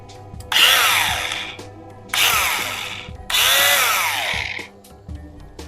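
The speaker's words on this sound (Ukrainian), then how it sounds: "Зразу як нажимаємо кнопку то в нас зразу 8 тисяч оборотів на хвилину тут включається." A STHOR single-battery cordless power tool spinning up to 8000 rpm, heard as three loud, close, whirring bursts, each starting sharply and winding down with a falling pitch between presses of the trigger.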